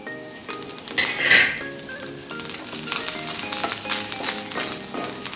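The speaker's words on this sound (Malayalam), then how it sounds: "തേങ്ങ ജി ഇഞ്ചി ഉള്ളി കരുവേപ്പില ഒക്കെ കൂടി ഇട്ടിട്ട് നല്ല ബ്രൗൺ ആയിട്ട് വറുത്ത് പോരണം" Steady sizzling of coconut, ginger, onion and curry leaves browning in a pan, with a spatula scraping and stirring at intervals and occasional clinks of metal; no voices.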